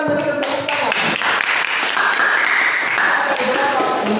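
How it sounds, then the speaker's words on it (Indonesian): Classroom applause from students fills the room, a steady dense patter of clapping at moderate volume, with voices mixed in beneath it. "Silakan berikan tepuk tangan."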